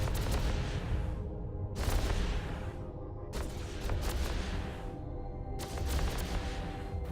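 Laser turrets firing in repeated bursts during a combat tutorial in the space game EVE Online, each volley a dense, crackling, roaring blast lasting a second or so, over a constant low rumble.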